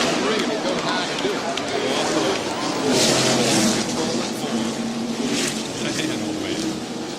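NASCAR stock cars roar around Darlington Raceway past a crash scene at the 1997 Southern 500, a loud continuous engine drone with a commentator talking over it.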